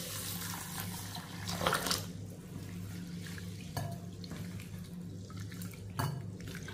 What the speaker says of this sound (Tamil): இப்போ கொஞ்சம் தண்ணி ஊற்றிடுவோம் வாஷ் பண்ணுறதுக்கு.